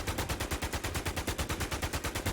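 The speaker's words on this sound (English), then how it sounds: "this time I'm going to try and shoot faster, switch faster, so you guys can still see the hit markers on the wall" Rapid automatic gunfire in the video game Infestation: The New Z, an evenly spaced burst of about twenty shots in quick succession, steady and sharp with no talk.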